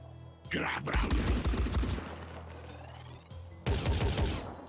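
Turret gunfire in the Phoenix Point video game, with dense bursts of rapid shots that open early, fade, then return loud near the end, while someone talks over the first half.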